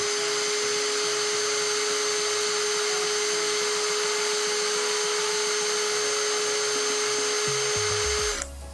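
Cordless 20V impact driver spinning freely at full speed during an RPM test, a loud, steady high-pitched whine held for about eight seconds before spinning down at the end.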